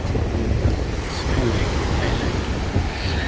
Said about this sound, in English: Oh my God, these waves are beautiful. They're coming onto my toes, my feet.